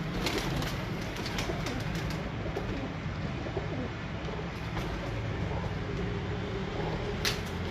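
Breeder pigeons coo softly in a loft, steady low murmuring under a constant background hiss, with a few faint chirps mixed in.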